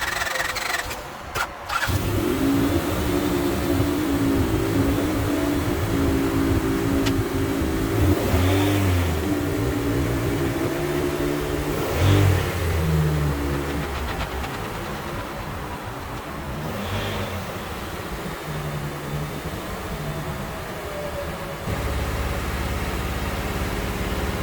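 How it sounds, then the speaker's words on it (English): A 1988 Honda Civic Wagon with no brakes and heavy smoke cranks and fires up, then a steady mid-pitched engine runs close and loud throughout while the car backs out of a driveway, with a few revs along the way. "We're going to start this up and back it up, and that'll be our first drive."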